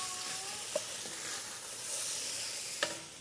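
Red beans sizzle in a hot pan with a soft, steady hiss and two brief clicks of utensils, fairly quiet and without any talk.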